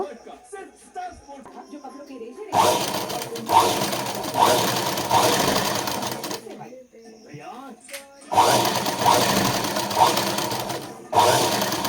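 Sewing machine running top stitching along a blouse, in several sustained bursts of steady rapid whirring with short pauses between, close and loud, with a voice talking faintly in the quiet gaps.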